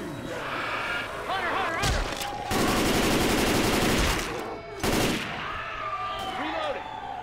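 Rapid automatic gunfire in Left 4 Dead 2, loud sustained bursts with a dense volley in the middle, with voices talking over the shooting and game sounds between bursts.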